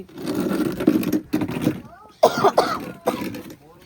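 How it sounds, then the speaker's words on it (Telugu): Harsh, raspy coughing and throat clearing come in several rough bursts, close and fairly loud, with short pauses between them. "దగ్గు వస్తుంది బాగా"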